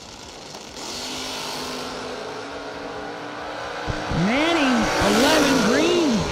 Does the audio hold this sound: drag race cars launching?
yes